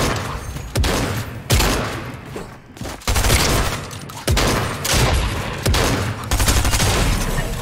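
Shotgun blasts in a Fortnite-style shooter game, a string of loud, sharp bursts spaced roughly a second apart amid continuous game noise, with no talk.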